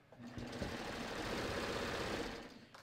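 A domestic sewing machine runs steadily for nearly three seconds, stitching a seam on a cross-over cardigan, with a continuous close whirring motor and rapid needle clatter and no talking.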